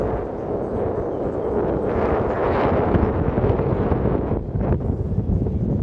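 Strong wind buffets the microphone at a seaside camp in Calatagan, Batangas before dawn, a steady loud roar with gusty surges that dips briefly near the end.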